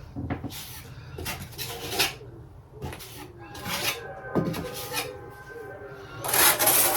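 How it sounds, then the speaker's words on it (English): A tool presses plaster into screw holes in a wall during amateur plastering, giving scattered scraping rubs and light clinks at close range in an uneven, stop-start rhythm. "I'll fill in some of these screw holes while I'm at it."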